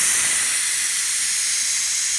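Steam hisses steadily and loudly from the release valve of a Ninja Foodi pressure cooker after a cooking cycle of baby back ribs, a continuous bright rush with no talk.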